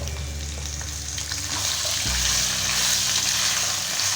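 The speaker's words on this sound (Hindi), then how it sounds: "इसे भी हमने हल्का सा सोटे कर लेना है" Carrot, capsicum and onion sautéing in a hot pan for chicken manchurian, a steady close sizzle and crackle with stirring, briefly growing louder and fuller partway through.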